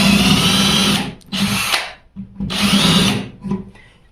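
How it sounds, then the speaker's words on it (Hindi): A power drill bores a 4 mm hole, a loud close whine in bursts that cut out briefly and restart, two main runs with short pauses between. "हमने ये 4 एमएम का होल किया"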